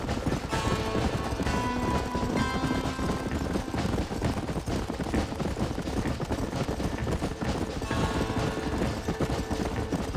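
Horse galloping in Red Dead Redemption, a fast steady clip-clop of hooves that stays loud and close throughout, mixed with continuous in-game background noise.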